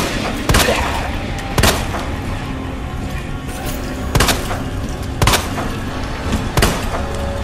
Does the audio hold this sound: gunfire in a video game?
yes